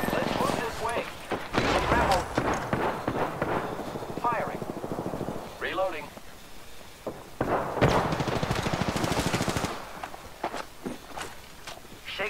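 Rapid bursts of automatic gunfire and single shots crack through a battle royale video game firefight, with footsteps between volleys. The shooting comes in clustered bursts, loud and close, and a voice talks over parts of it.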